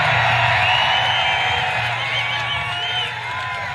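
A large crowd at a Trump political rally in Miami, Florida cheers and shouts loudly and continuously, a dense roar of whoops and voices with some clapping that eases slightly toward the end.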